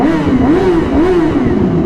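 A 600cc sport motorcycle engine accelerates close by, a steady loud drone with a wavering pitch that rises and falls like repeated throttle blips.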